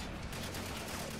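Distant, muffled rattle of automatic gunfire in the video game Spec Ops: The Line, faint and continuous over a short burst, with a voice murmuring beneath it.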